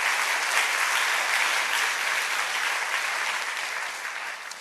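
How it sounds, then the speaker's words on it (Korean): A church congregation applauds young people, the clapping dense and steady throughout, fading slightly toward the end. "우리 큰 박수로 한번 격려해 주시면 감사하겠습니다."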